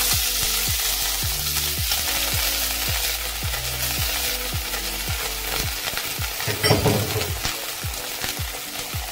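Onions frying with garlic and ginger in a pan for vegetable fried rice, with a loud continuous sizzle and regular rhythmic scraping strokes of a spatula, close up, no voices.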